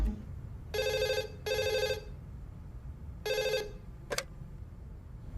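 A telephone bell rings indoors in a film scene: three short buzzing rings in an even rhythm, then a brief click, moderately loud over a quiet background with no talking.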